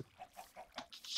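Minecraft chickens clucking in short repeated bursts, moderately loud, with a few brief blips layered among the clucks and no talking.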